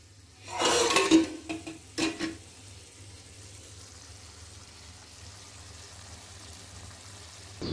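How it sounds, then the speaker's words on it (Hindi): Tadka tempering with tomato and chilli is prepared for dal fry in a home kitchen. A loud sizzling crackle bursts up for about two seconds, with a couple of clattering pan noises, then fades to a quiet room hum. "तो यहाँ पे ये दाल के लिए तड़का तैयार हो रहा है"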